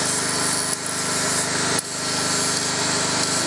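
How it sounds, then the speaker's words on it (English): A new Black & Decker grinder fitted with a wire brush scrubs the bolt heads on the hydraulic tank of a 1970 Caterpillar 951 loader, a loud continuous harsh whirring grind with two brief dips, close up and without voices. "we're just going to put a wire brush now on the bolt heads on the hydraulic tank to finish off"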